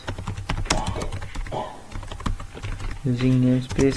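Someone types C++ code on a computer keyboard, quick light key clicks running steadily throughout, with someone speaking over the typing in several places.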